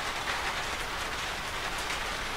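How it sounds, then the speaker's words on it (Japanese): Steady rain falling on a home terrace during a stay-at-home camp, a dense continuous hiss heard close and even throughout, with no voices. "雨降ってんだもん"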